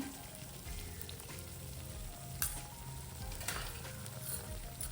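Chilli powder and masala spices frying in a pan for paneer masala, a faint continuous sizzle with low hum underneath and a couple of brief scraping clicks, quiet and steady.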